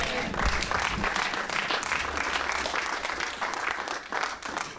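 A church congregation claps in sustained, dense applause that fills the room, with voices audible underneath throughout.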